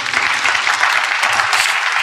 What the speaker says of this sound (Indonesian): Kita beri tepuk tangan untuk Tuhan Yesus.